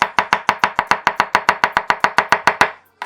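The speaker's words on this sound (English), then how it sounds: "Onion, first thing, going to give this a small dice." A knife dices an onion on a cutting board into a small dice, producing about fifteen crisp, evenly spaced chops at a brisk steady rhythm, close and clear with no talking, before stopping abruptly.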